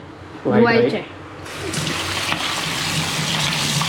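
Freshly gathered wild mushrooms are rinsed under running water. A short close splash is followed by a steady hissing, splashing flow that continues to the end, with a voice talking over it.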